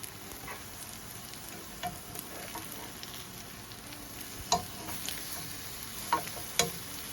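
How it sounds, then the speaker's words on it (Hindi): Eggplant slices rubbed with coriander and salt fry in mustard oil, giving a soft, steady sizzle at low volume with a few sharper pops and crackles scattered through, and no talking. "करते हैं अपने बैंगन जो कि फ्राई हो रहे हैं।"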